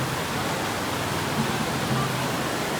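Flowing water rushes in a steady, even hiss from a stream at Edupayala temple where people bathe, filling the scene with continuous close noise and no voices.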